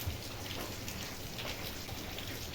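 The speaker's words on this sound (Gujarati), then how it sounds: "જો વરસાદનો માહોલ જામ્યો" Steady rain falls continuously, a dense even hiss of drops on a surface, fairly close, with no voices.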